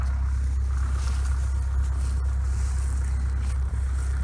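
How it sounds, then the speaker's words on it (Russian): A tractor engine clearing bushes from a field drones steadily at close range, its low, constant rumble filling the whole stretch with no clear changes in load. "Трактором завалил"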